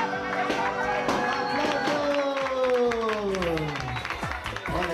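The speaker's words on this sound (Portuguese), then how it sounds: "Aplausos!" Studio audience applauding on a television afternoon show during a birthday celebration, steady clapping mixed with crowd noise while a voice talks and sings over it.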